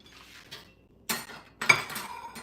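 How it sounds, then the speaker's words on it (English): Kitchen utensils clinking as a spatula is fetched: two bright metallic clatters close by, separated by short quiet gaps, without talk. "So let me get a spatula"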